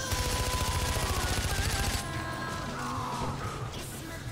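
Rapid automatic gunfire from the video game Far Cry 4, a dense steady burst for about two seconds that then drops into a busier, lower-level scene of scattered shots and noise.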